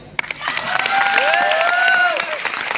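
Seated audience at a motivational talk breaks into loud applause and cheering, a burst that swells and then holds, with whoops and voices over the clapping.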